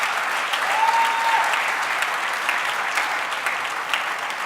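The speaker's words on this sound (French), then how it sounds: "clap you the hand for yourself" A church congregation applauds for a few seconds, dense steady clapping from a crowd filling the room, with no talking over it.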